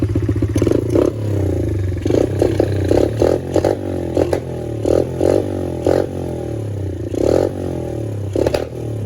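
A 90cc pit bike engine fitted with a NIBBI PE24mm carburetor idles and blips unevenly, loud and close, with repeated rough bursts and pops suggesting a backfire amid a clattering, chugging rhythm.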